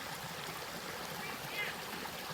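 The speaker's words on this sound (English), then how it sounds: "Now that's the water that's coming off the neighbor's pond and hitting this little creek." Runoff from a neighbor's pond pours into a small creek after a heavy rainstorm, making a steady rushing, trickling wash that holds an even level throughout, moderately distant with no clear talking.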